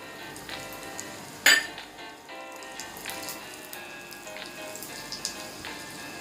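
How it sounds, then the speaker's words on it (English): Ground spices drop into hot oil in a small kadai over a low flame for a raw mango chutney tempering, a sharp crackling burst followed by soft, steady sizzling and scattered pops, close and fairly quiet. "Now we will add these grounded spices to this hot oil."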